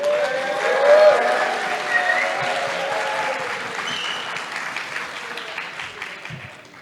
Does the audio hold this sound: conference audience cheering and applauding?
yes